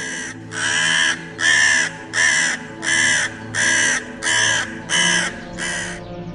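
A crow perched on a tree branch caws again and again, eight loud, harsh calls in a steady rhythm, each lasting about half a second, with no voices.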